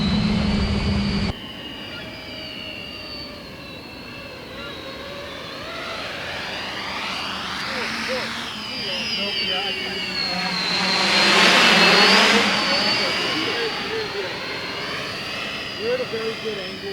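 A giant 12S X-Class racing drone, the Cannonball 800, whines loudly as it flies in to land, its motor pitch sweeping up and down as it passes close, with a voice talking over it.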